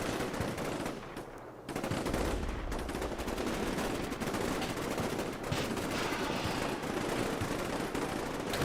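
Sustained gunfire pours into a building in the war game Combat Mission: Black Sea, with dense rapid rifle and machine-gun bursts. A short lull comes early, then the fire runs on loud and unbroken to the end.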